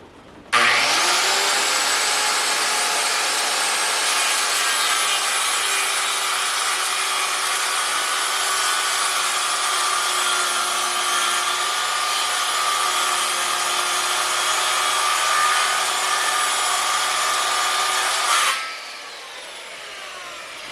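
Power saw cutting freehand through a green 6x6 timber beam for a cabin frame, one long, loud, steady whining cut lasting nearly twenty seconds before spinning down.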